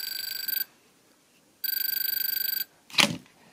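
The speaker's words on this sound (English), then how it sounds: "That's the alarm." A battery-backed device sounds its alarm in two bursts of rapid, buzzing electronic ringing, each lasting about a second with a pause between, followed by a short clatter; fairly close and otherwise quiet.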